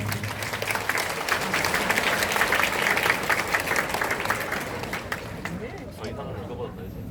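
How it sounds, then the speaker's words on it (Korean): Audience at an army basic training graduation ceremony breaks into sustained, even applause, a dense wash of clapping that holds steady for several seconds before thinning and fading at the end. "박수 부탁드리겠습니다."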